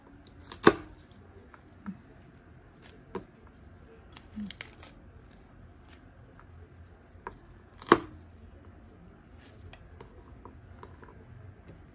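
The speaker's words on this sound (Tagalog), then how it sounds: "Ayan, pinutol ko mustasa." Mustard greens chopped on a board for corned beef sinigang: sparse, sharp knife thuds, with one stronger chop near the start and another later, spaced irregularly over a quiet kitchen background.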